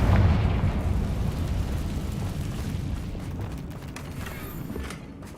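A Confringo blasting spell explodes in Hogwarts Legacy: a loud, deep boom with a rumbling low roar that slowly decays over several seconds, with faint debris crackle near the end.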